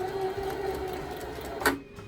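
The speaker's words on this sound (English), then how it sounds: "I just put it under the sewing machine foot to do just a little straight stitch" A sewing machine runs a short straight stitch on ribbon. The whir is quiet and steady, with a brief sharp click just before it stops.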